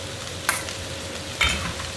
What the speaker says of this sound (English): And then you add in the vermicelli or the noodles, whatever you use.